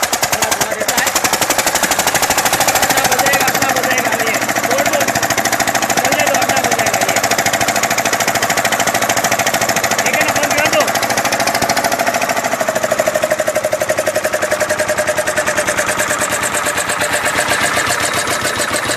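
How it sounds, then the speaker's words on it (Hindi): A generator engine is restarted at a generator repair and rental shop in a village, firing into a loud, rapid mechanical chatter that runs continuously at close range with a steady knocking rhythm and no speech. "ये देखो आपके सामने बिल्कुल वापस इंजन स्टार्ट हो रहा है"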